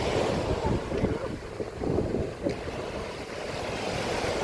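Steady surf at Jumeirah Beach in Dubai washes in as a continuous broadband rush, with wind buffeting the microphone throughout and no voices.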